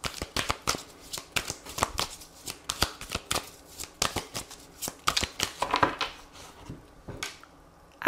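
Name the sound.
shuffling oracle cards for a reading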